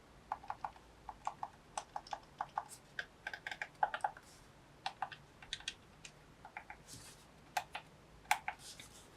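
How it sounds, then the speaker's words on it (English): Buttons on a white GameSir T7 Xbox/PC controller are pressed in quick, irregular bursts of small, light plastic clicks, close and fairly quiet, with short pauses between runs. "let's do some sound tests on the buttons themselves"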